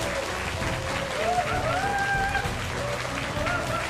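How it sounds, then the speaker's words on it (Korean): A large crowd applauds steadily through an award ceremony at the final of a Hearthstone KR-CN Masters esports event, with dense clapping and faint voices underneath. "아낌없는 박수 부탁드리겠습니다."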